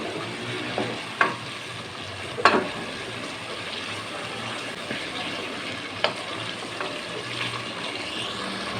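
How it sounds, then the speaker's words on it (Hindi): Yogurt is stirred into a simmering chicken korma curry with a spoon: a continuous close sizzle with a few sharp spoon knocks against the pot and soft wet mixing sounds. "जब भी आप सालन में दही डालें, आप इस तरह इसको चमचे से साथ साथ मिक्स करते जाएं।"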